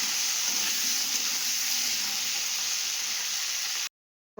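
Cauliflower fries in plenty of leftover fish-frying oil with a loud, steady, close-up sizzle and hiss. The sound stops abruptly near the end.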